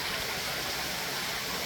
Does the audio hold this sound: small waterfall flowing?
yes